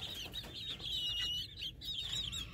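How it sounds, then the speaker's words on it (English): Old English bantam hen clucking close by outdoors, a series of soft, quick clucks and murmuring calls over faint background noise. "old English Banny's hen."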